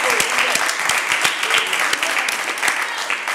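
A TV game show studio audience breaks into sustained applause, a dense wash of clapping with sharper individual claps standing out, while people talk over it.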